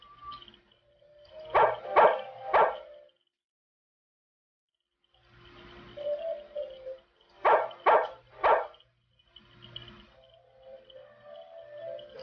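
A small dog in the video game Legend of Sword and Fairy 2 barks in two tight bursts of three sharp yaps, separated by a pause, over quiet game music.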